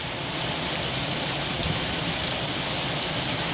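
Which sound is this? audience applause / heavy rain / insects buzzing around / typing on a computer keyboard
heavy rain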